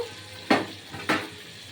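Cashews, onions and tomato fry in a pan for shahi paneer, with a low sizzle under two short, sharp bursts of stirring a half-second apart.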